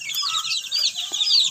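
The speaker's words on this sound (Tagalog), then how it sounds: "Yes, mga manok." A backyard flock of chickens clucking and chattering busily, with overlapping high calls close by and steady throughout.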